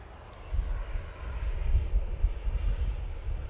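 An airliner arriving from Venice touches down at Manchester Airport, its jet engine rumble swelling after a quiet start and then holding as a low, rolling roar at middle distance.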